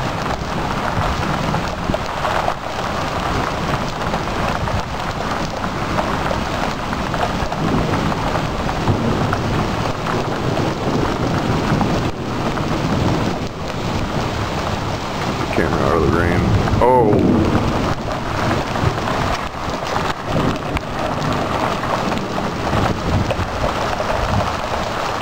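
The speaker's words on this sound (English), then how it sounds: "Downpour." Heavy spring thunderstorm downpour, with dense rain roaring steadily on surfaces throughout and a low rumble of thunder rolling in partway through, loud and close.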